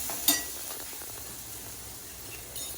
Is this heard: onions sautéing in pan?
yes